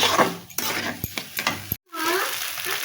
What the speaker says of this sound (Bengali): একটু নাড়াচাড়া করে নিই মশলাটা